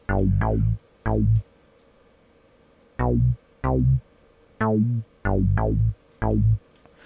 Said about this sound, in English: you can hear it's got that synthy wah-ish sound to it that I like